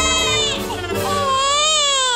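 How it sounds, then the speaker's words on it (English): A cartoon baby cries in a continuous high, wavering wail that rises and falls for a couple of seconds, loud and close with no other voices. "Baby Boo Boo keeps crying."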